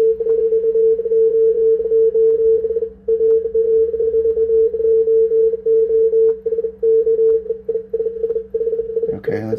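A Yaesu FT-DX10 radio receives Morse code CW through a 500 Hz filter, a steady sustained tone broken by short gaps, with a fainter interfering keyed tone alongside, plus a brief burst of other signals at the end.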